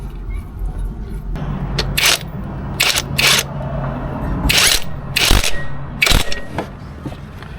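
An impact gun tightens a 17mm crank pulley bolt on a Toyota Celica 2ZZGE engine, firing in several short, loud, rattling bursts separated by brief pauses.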